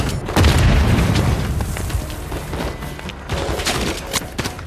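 RPG rocket fire in Call of Duty Modern Warfare 3 during a snowy frozen-tundra firefight: a loud, close boom early on, then a rumbling tail with scattered gunfire and blasts running throughout.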